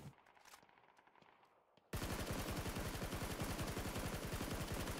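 Rapid automatic fire from a SCAR rifle in a video game, a loud sustained burst of evenly spaced shots starting abruptly about two seconds in after quieter game ambience and scattered distant shots.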